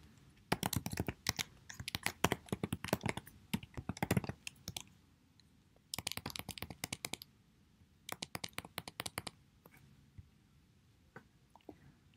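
Email address and password being typed on a computer keyboard, a close run of quick, uneven key clicks in bursts separated by short pauses, fairly quiet and with no talking.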